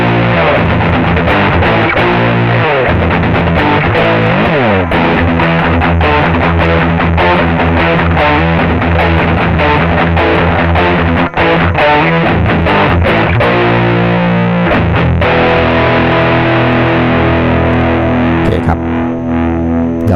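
Electric guitar through a Walrus Audio Fundamental Distortion pedal in dark mode, heavily distorted chords and riffs, loud and continuous with a dark, thick tone and no voices.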